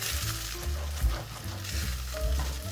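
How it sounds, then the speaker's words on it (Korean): Beaten eggs scrambling in half a spoon of coconut oil in a hot pan, a dense close sizzle with stirring clatter and occasional utensil knocks against the pan. "달군 팬에 코코넛 오일 반 스푼 정도 양, 풀어둔 달걀 이렇게 휘저으면서 스크램블 에그를 만들어줍니다."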